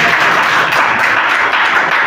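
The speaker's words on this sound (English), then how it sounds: "Man, give a big round of applause for him" A classroom group bursts into loud, dense applause during a group discussion, a continuous close roar of many hands clapping with no talking over it.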